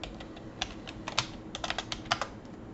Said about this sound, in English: you want to type in Bing Collection